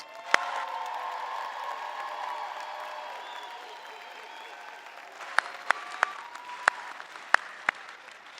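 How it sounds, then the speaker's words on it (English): Audience applause fills a high school graduation ceremony for the 2025 senior class at McKinney North High, steady dense clapping that thins out, leaving a few loud isolated claps near the end. "Let's give one more giant round of applause for our seniors."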